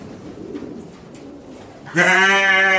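Racing pigeons in a one-loft race loft make faint rustling and low murmurs, then one loud, sustained throaty coo close by closes the sequence.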